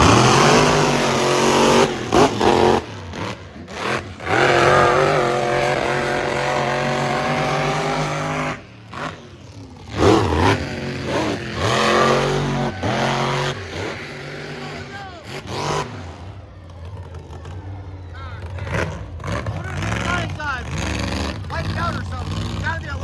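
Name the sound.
truck spinning around in mud at Michigan Mud Jam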